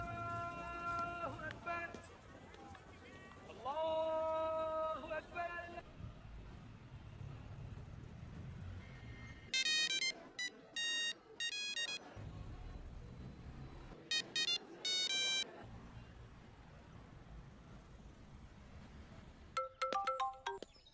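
A phone left ringing unanswered in a Tamil film scene, repeated electronic ring bursts in short clusters with gaps between them, mixed with background sound and movie audio.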